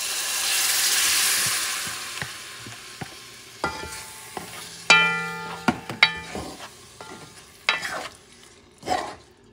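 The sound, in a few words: stirring beans in a frying pan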